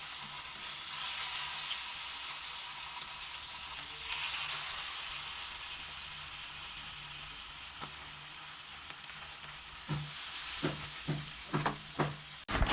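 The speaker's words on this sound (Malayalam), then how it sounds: "അങ്ങനെ നേരെ ഫ്രൈ ചെയ്യാൻ പോണ കേട്ടാ." Masala-coated mackerel fries in a pan, a steady loud broadband sizzle throughout, with several sharp spatters and pops crackling near the end.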